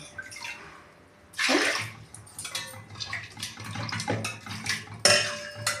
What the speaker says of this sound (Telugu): ఒక 4 కటోరీలు వాటర్ వేస్తున్నా.